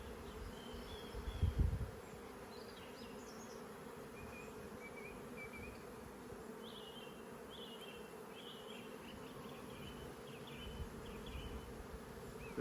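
Honey bees hum in a continuous, moderately loud drone at the front of a hive during a transfer from a nuc, with a brief close thump near the start and no voices.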